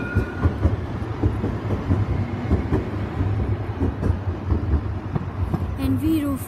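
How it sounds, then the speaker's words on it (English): An Edinburgh tram rolls along Princes Street with a steady low rumble and rail clatter, a soft brake squeal near the end, and city traffic around it. "Got Edinburgh Trams."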